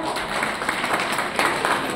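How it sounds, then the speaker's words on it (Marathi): An audience claps steadily at a state-level elocution competition after a first-grade student's speech, a dense wash of applause with a few sharper bursts, faint voices mixed underneath. "सर्वांनी जोरदार टाळ्या वाजवून"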